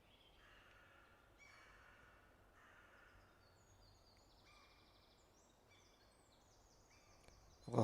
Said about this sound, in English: I love all these birds.